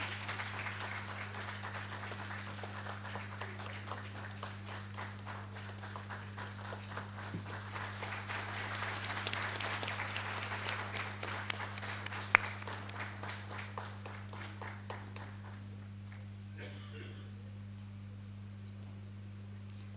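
An audience at a foundation day ceremony applauds in a long, steady round of many hands, fairly distant and even, over a constant electrical hum, tapering off near the end.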